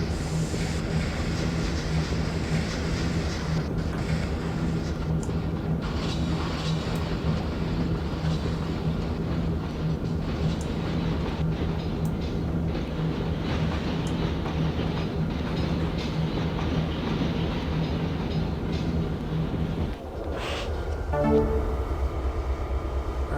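A freight train with a caboose rolling past in the Trainz simulator, a steady loud rumble of wheels and cars with rhythmic clatter, ending with a brief clunk and change near the end.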